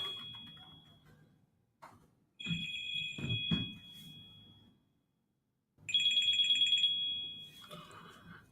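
A phone ringtone plays in two loud bursts of bright, sustained electronic tones, separated by a pause, with muffled clatter and brief voice sounds underneath.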